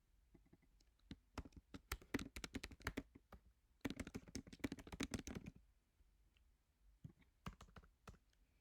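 Fingers type on a computer keyboard in rapid bursts of close, crisp key clicks, with short pauses between runs and no voices.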